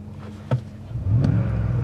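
A Ford F150 engine with a K&N air filter and aftermarket exhaust blips, then revs up into a loud, close, sustained roar after a brief click.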